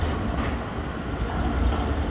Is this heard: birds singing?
no